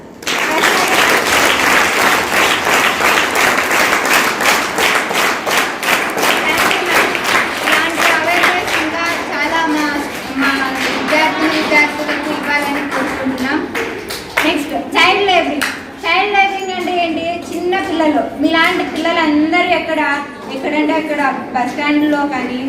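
Students at a school awareness event on child marriage applaud in a loud, sustained burst of clapping that fills the room, with children's voices and chatter rising over the clapping toward the end.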